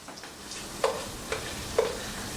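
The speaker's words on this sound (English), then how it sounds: "I have those veggies in there, kind of sauteing, doing their thing" Peppers and onions sautéing with butter and cream cheese in a pan give a low constant sizzle, broken by three clear stirring scrapes and clinks of a utensil at roughly even intervals.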